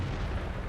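A single tank gun firing a shell in World of Tanks, a brief, loud, low-heavy blast with a rumbling tail.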